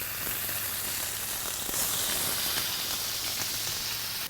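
Four halved strips of somewhat ragged bacon sizzle on a Blackstone griddle over medium-high burners, a steady close, dense crackling hiss that continues throughout with no talking.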